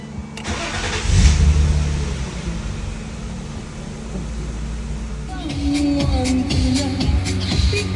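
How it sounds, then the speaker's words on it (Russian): A BMW M50B25 car engine starts and settles into a steady idle after a hydraulic lifter repair, a close, loud, even mid-pitched hum with a brief rev at startup and a smooth running tone throughout, with no talk. "Мотор работает очень хорошо."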